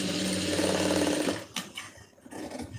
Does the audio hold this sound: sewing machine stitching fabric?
yes